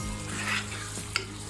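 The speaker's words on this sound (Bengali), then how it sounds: "মশলাটাকে কিন্তু আমি খুব সুন্দর ভাবে কষে নিচ্ছি, খুব ভালোভাবে আমি কষাবো।" Spice masala for a beef curry with jackfruit seeds sizzles in a pan as it is stirred and cooked down, a soft steady frying hiss with a brief scrape of the spoon, fairly quiet and close.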